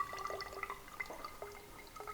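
Water drains from the opened tap of a separating funnel holding oil and water in a classroom science demonstration, with faint, scattered drips and small trickling splashes heard close up and quiet.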